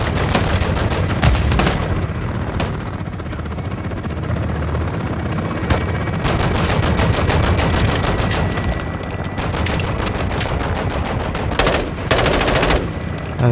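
Sustained automatic gunfire in Call of Duty Modern Warfare 2 campaign, loud and close, with dense rapid bursts and intermittent heavier blasts over a constant rotor-like drone.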